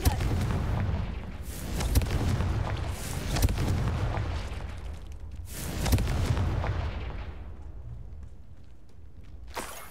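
Fire-blast spell explosions in the Hogwarts Legacy video game, several heavy booming blasts with crackling bursts rolling through a loud rumbling background, fading toward the end.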